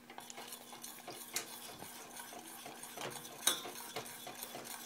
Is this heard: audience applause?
no